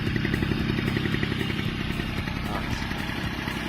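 A standard motorcycle engine idles steadily after an exhaust repair, a loud, continuous rumbling throb with a fast even pulse close by, with no pauses.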